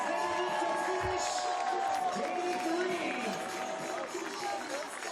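Crowd cheering and shouting for teams racing to finish at the 2019 CrossFit Games, a loud continuous roar of spectators with music-like tones running steadily under it throughout.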